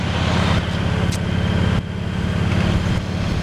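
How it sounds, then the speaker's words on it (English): Steady highway traffic with heavy trucks, a loud continuous rumble of engines and tyres rolling past close by, with brief shifts as vehicles pass. "this is probably just normal traffic"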